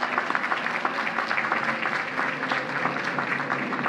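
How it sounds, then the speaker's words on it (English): A crowd at the 2018 Queens College commencement applauds steadily for the campus public safety team, a dense, even wash of many hands clapping that holds throughout. "So let's give our public safety team a big,"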